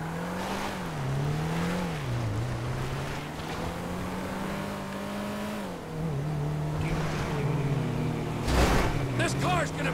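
A car engine droning steadily with its pitch rising and falling as it revs, close and prominent, with a brief louder burst near the end.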